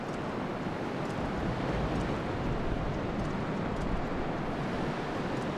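A continuous broadband rush of wind in The Legend of Zelda: Twilight Princess HD, steady and fairly loud, with no voices or other distinct sounds.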